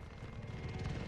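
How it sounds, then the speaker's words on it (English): A military support helicopter arrives in the online shooter Call of Duty Modern Warfare, its steady rotor thrum and engine rumble holding loud and continuous with no voices. "Allied support helo inbound"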